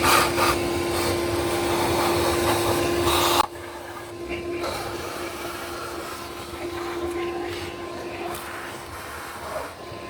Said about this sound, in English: I'm gonna use a vacuum just to get all this other stuff off of here.